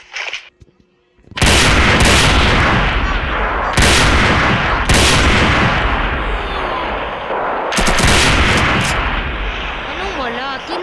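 Loud, sustained video game gunfire: dense volleys of shots and booming blasts that continue almost without pause after a brief quiet opening, with voices talking over the din.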